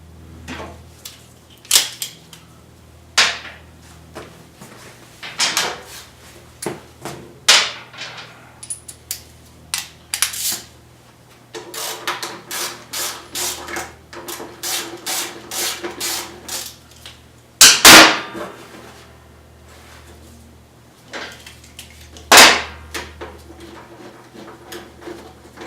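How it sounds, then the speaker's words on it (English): Metallic clicks and ratcheting taps come from a wrench working the 8mm brake line bolt off a Suzuki V-Strom motorcycle fork, in irregular close bursts with short pauses between them. "we're going to go ahead and take this 8mm bolt off from the brake line here"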